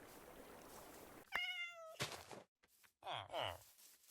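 A Minecraft cat meows twice, a drawn-out tonal mew and then a shorter, higher one, with short gaps and soft game noise around the calls.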